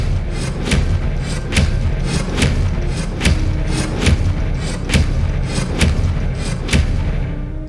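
Hogwarts Legacy spell casting: a steady series of about a dozen sharp booming blasts of Accio and Expelliarmus, evenly spaced about once per second, loud and close over a dense rumbling game background.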